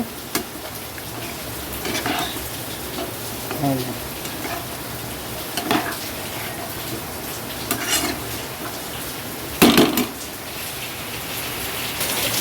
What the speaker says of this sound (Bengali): এই দেখো বৃষ্টি নেমে গেছে